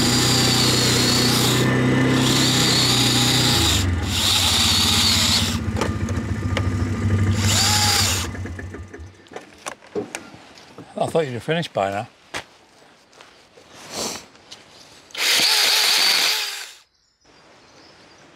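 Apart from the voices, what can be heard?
battery chainsaw cutting wood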